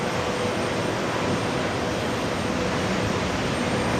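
Delta Boeing 767-400 jet airliner at JFK Airport, Delta 752 bound for Los Angeles, a steady broadband engine roar that holds at an even level throughout, fairly loud and continuous with no voices.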